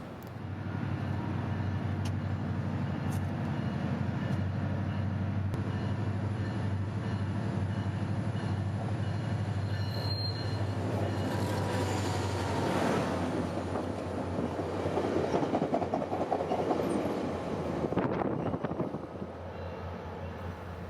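Passenger train P318 departs and rolls over a road crossing, a steady low rumble of engine and wheels heard from moderate distance, swelling with rattling wheel and rail noise toward the end, with some wind buffeting.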